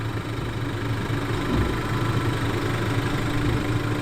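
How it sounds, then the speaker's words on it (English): 4x4 vehicle engine crawling slowly over rocks down a tight beach track at Forster, a steady low idling rumble with vibration, close and constant without talk. "Here I am using my clutch, just so I can go really slow to make sure I don't hit anything as I'm going down."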